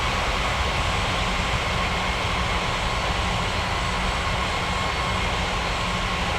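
An airliner's engines whine and roar in a steady, broad hum as the plane taxis toward the runway at an airport, with no other sounds standing out.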